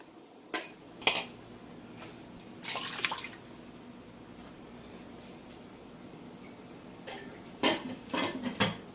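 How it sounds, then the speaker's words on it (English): Meat stock poured into a pot of egusi soup, with a short splashing pour between sharp clinks and taps of metal utensils against the pot, in a quiet kitchen. "I'm going to be adding my meat broth, meat stock, whatever you want to call it"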